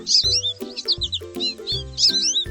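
A cartoon sparrow in a children's colour-learning animation gives bright, quick chirps in short repeated bursts over a simple tuneful backing.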